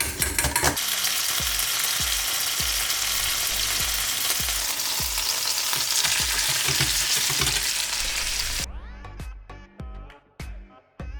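Ghee and a small burger fry in a pan with a dense, loud sizzle and crackle and some scraping, then the hiss cuts out into quieter, sparse clicks near the end.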